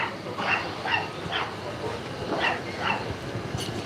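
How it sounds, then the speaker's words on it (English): A small dog barks repeatedly from the back of a boat moored by a jetty, sharp yips in an irregular series heard at a distance over steady outdoor background noise. "Look at the little fella barking away."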